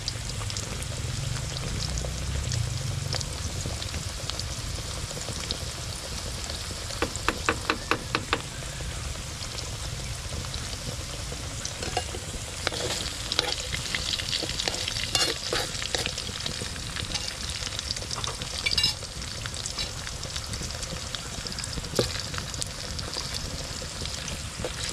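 Cassava pieces frying in a pan of oil, a long steady sizzle with bursts of crackling and occasional scraping from stirring, with no voices.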